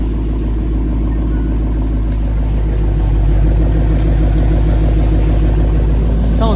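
A widebody Dodge Challenger idles with a straight pipe exhaust, a loud deep rumbling burble held steady and close, with a slight rise in level partway through.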